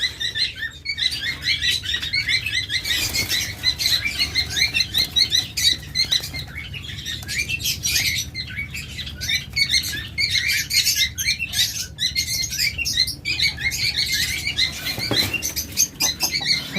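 A flock of caged java sparrows in red, black and silver colours, giving rapid high chirps that overlap continuously from several birds nearby, with occasional fluttering.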